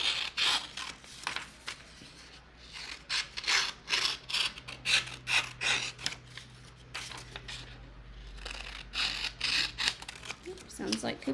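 Scissors cutting through paper, a run of rhythmic rasping snips close by, steady with short pauses, with a person talking at times.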